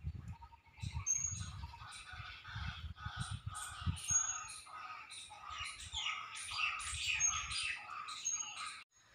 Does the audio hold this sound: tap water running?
no